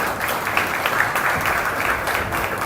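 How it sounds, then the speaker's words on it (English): Dense, steady audience applause fills a conference hall in Nairobi as a guest walks on stage, a continuous wash of many hands clapping close by with no voices on top. "A round of applause as he makes his way"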